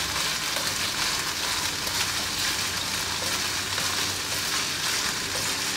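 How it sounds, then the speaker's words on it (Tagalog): Coconut milk cooking down for biko is stirred continuously in a pan, giving a steady, dense sizzle with soft scraping that runs the whole time without pause and with no talk. "Continuous lang yung ating paghalo."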